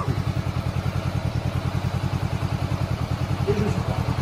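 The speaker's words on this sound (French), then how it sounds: "coupe le moteur une seconde, Arnaud." Motorcycle engine idling steadily and close by during an A2 licence pre-ride check, a regular low pulsing throb that holds for the whole stretch with faint clatter, no talk over it.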